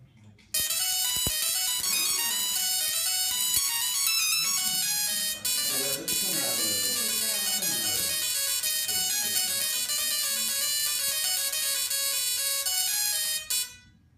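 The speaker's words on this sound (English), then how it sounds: "how the singing Tesla coil actually sings" Small singing Tesla coil playing a buzzy electronic melody of changing tones through its spark breakout point, bright and harsh, sustained for about thirteen seconds with brief gaps and sharp crackling clicks, no voices.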